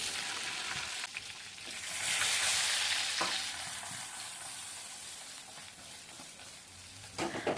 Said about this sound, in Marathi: वांगी तेलात टाकल्यानंतर ना मस्त अशी खालीवर करून घ्यायची